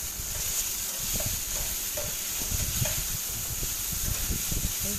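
Salted food is sautéed in a pan, with a steady sizzle and repeated scraping stirs close by, and no one speaking.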